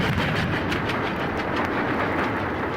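A train sound effect on a storybook record for a film adaptation, a loud, steady rumbling rail clatter with faint rhythmic clicks throughout.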